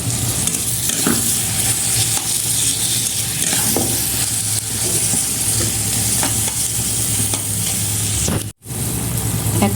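Chopped mango is stirred through thick sugar syrup in a pan over medium heat, giving a loud, continuous bubbling sizzle with scraping strokes of the spoon and a brief dropout near the end, with no talking.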